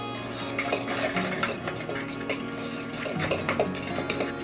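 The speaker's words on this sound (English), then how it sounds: "We will mix the flour and the baking soda together" Flour and baking soda mixed together in a bowl for banana bread, heard as continuous close scraping and stirring with light clinks of a utensil against the bowl, no talk.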